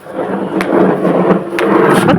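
Thunder rumbles over steady rain, with a few sharper cracks breaking through the continuous downpour.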